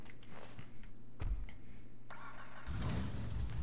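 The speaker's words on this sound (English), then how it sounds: "The Hellcat has a little bit meaner of a startup." A Hellcat muscle car engine in GTA 5 cranks with a few sharp clicks and thumps, then catches and roars into a loud, rough rumble near the end.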